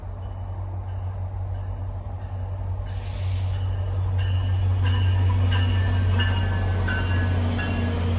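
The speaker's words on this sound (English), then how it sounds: "As this train pulls to a stop at Dorval" A passenger train rumbles steadily with a deep low hum, growing slightly louder as metallic squeals and brake hiss join in partway through as it pulls to a stop at Dorval station near Montreal.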